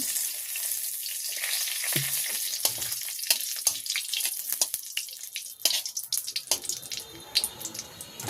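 Bay leaves and cumin crackle and sizzle in hot mustard oil in a village kitchen, a steady close frying hiss with scattered sharp pops and a few stirring clatters, no voices.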